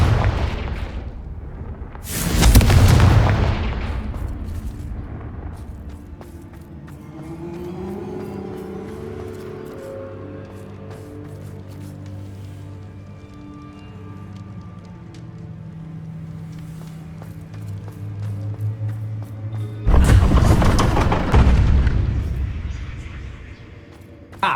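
Fire-spell explosions in the video game Hogwarts Legacy: two loud, sharp booming blasts, one near the start and one near the end, with a rumbling low hum and scattered magical crackles between them.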